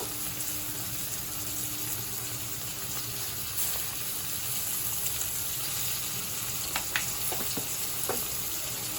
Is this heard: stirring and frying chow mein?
yes